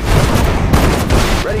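Soldiers fire a dense, continuous volley in Sudden Strike 4, a rumbling wall of battle noise with a voice briefly heard over it.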